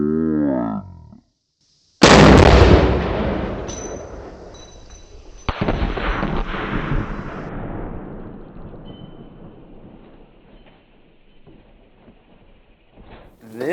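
A single .22 rifle shot sets off a Tannerite charge near a Ford and a Tesla being shot at, giving a sudden huge outdoor blast with a long rolling rumble that fades over several seconds, then a second sharp crack partway through the decay.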